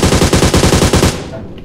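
Loud, rapid automatic gunfire from a video game rattles in an even burst of about a dozen shots, then cuts off into a short fading tail.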